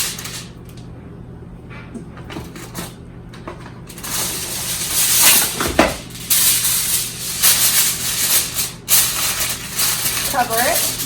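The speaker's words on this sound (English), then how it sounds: "Take your tinfoil. You're going to lay it on top." Crinkling tinfoil laid over a dish of stuffed cabbage in a home kitchen, a loud sustained rustle and crumple in the middle stretch, preceded and followed by quieter handling and a person talking.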